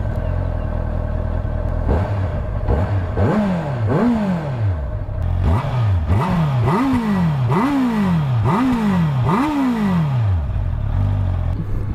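A Honda CB650F four-cylinder motorcycle starting up, then revved repeatedly in a quick series of rising and falling blips, loud and close, with the engine idling between revs.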